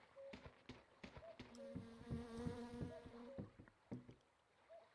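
Buzzing insects, likely bees, in the driving game My Summer Car, a faint droning hum with several tonal swells under irregular knocks and clatters, fairly quiet overall.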